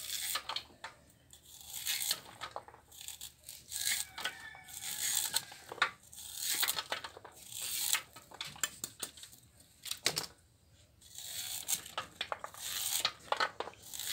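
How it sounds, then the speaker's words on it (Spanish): Fresh corn kernels scraped off the cob with a knife for sweet corn tamales, a steady series of close, crisp rasping and tearing scrapes repeating at an uneven pace. "Vamos a raspar todo el elote"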